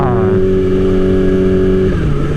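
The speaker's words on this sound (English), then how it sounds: "The sound is very unique. It's like it's got like that quick whine that you get out of a 600." A sport motorcycle engine revs with a tight, high mechanical whine, loud and close, holding a steady pitch before dropping off near the end.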